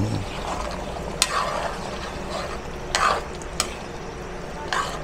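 Creamy dinuguan with coconut milk being stirred in a pan, with a steady low simmering hiss and a few distinct utensil scrapes and clinks against the pan at irregular intervals.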